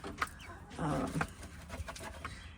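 Chicks and a young rooster cluck softly nearby, a few short bursts and a longer warbling call, faint against quiet background noise.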